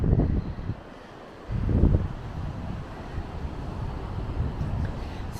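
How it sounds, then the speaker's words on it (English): Strong wind on a beach near Hornsea, East Yorkshire buffets the microphone in rumbling gusts, with a louder burst partway through and faint surf or distant voices beneath. "Apologies if it's a bit windy."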